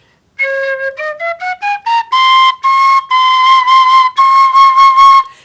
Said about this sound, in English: this is a penny whistle, a generation penny whistle made in England